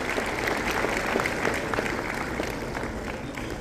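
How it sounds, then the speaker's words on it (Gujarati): A ceremonial audience applauding steadily, a dense sustained wash of clapping from many hands at a civic development event, even and unbroken throughout. "આપણે સૌ તાળીઓના નાદથી આ વિકાસની ક્ષણને વધાવીશું।"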